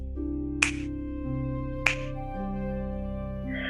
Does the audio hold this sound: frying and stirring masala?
no